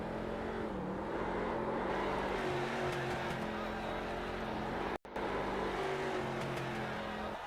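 Stock car engines roar continuously during a street stock oval race at Charlotte Motor Speedway in iRacing, a steady loud drone with shifting engine tones and a brief dropout near the end.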